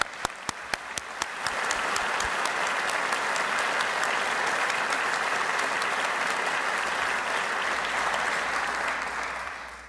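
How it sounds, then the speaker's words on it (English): Sharp individual claps at first quickly swell into loud, dense, sustained audience applause at a university investiture ceremony, holding steady before easing slightly at the end. "Let's give you a round of applause."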